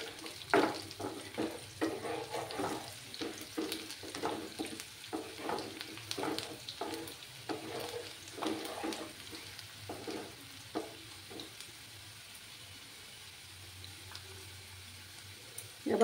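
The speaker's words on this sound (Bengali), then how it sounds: "দিয়ে পেঁয়াজগুলোকে আমি একটু লাল করে ভেজে নেব।" Sliced onions fry with a little sugar in a pan for a Bengali katla fish curry, a steady soft sizzle with close scraping stir strokes that fade toward a quieter hiss at the end.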